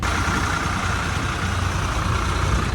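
Tractor engine running steadily at close range, a continuous low rumbling drone with no talk over it.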